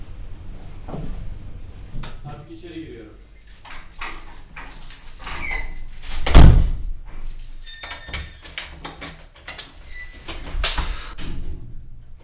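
A door is pushed and rattled in short, uneven bursts of knocking and clattering, with one loud heavy thump near the middle, set against a quiet indoor background.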